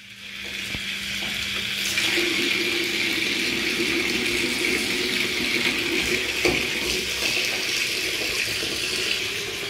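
Tap water runs steadily into a container in a home kitchen, a continuous close hiss and splash that holds unbroken from start to finish with no talking.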